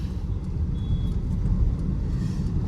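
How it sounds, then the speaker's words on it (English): A 2010 Maruti Swift accelerating through a turn, heard as a steady low engine and road rumble from inside the car, with no one talking. "I'm accelerating while turning, and the confidence which I get in this car is really good"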